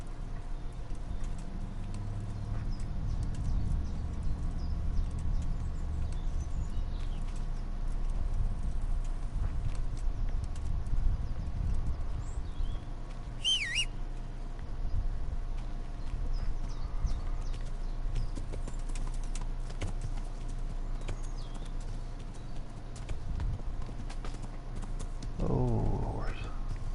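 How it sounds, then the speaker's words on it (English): Horse hooves clip-clop steadily in the medieval video game Kingdom Come: Deliverance, a continuous rhythmic plodding under low ambient wind and a few birdcalls, with a brief tonal cue near the end. "Oh, horse."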